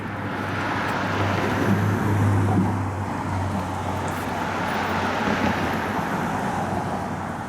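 A 1971 Chevrolet Chevelle SS fitted with a 502 cubic-inch 430-horsepower V8 rumbles steadily at low pitch, deep and continuous, with a slight swell in the middle and no voices over it.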